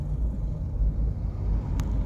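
Vehicles creep across the San Juanico Bridge in slow one-way traffic, giving a continuous low road rumble with a short clatter near the end and no speech.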